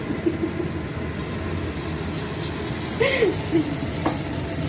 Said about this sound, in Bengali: আগে একটু ফিশটা ফ্রাই করতে হবে